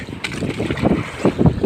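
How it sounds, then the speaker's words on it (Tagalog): Gusty wind buffets the microphone while big waves at sea slosh and thump irregularly against a boat, loud and close. "Medyo malaki-laki nga pala ang mga alon guys. Malakas pati ang hangin."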